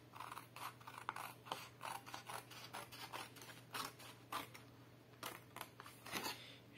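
Scissors cutting cardstock for a pull-tab card, a close, quiet series of crisp snips and rasping strokes coming in quick irregular bursts with short pauses between them.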